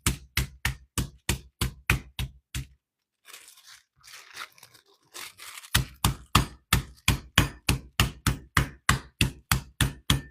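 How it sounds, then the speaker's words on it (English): Chicken fillets are pounded flat to about a quarter inch, giving loud, evenly spaced thuds in quick rhythmic bursts, broken by a short pause with faint rustling before the steady pounding resumes. "we are going to kind of pound them down to about 1/4 of an inch thickness"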